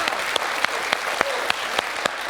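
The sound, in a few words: applause on a quiz show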